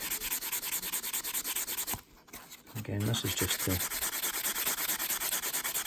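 Steady, rhythmic strokes of a fine-grade sanding block rasp against a metal watch case up close, removing scratches, pausing briefly while someone speaks, then resuming.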